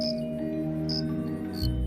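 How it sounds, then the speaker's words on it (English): Cricket song in a summer evening: three spaced high chirps over a constant low drone, with a thump near the end. "check out how the cricket makes its song"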